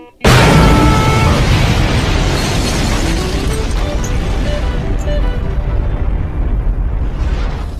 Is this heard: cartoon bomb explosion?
yes